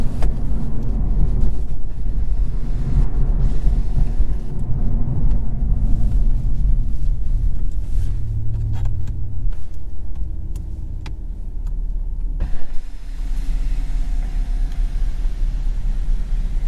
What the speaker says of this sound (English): And you get a little bit of burbles too on the decel.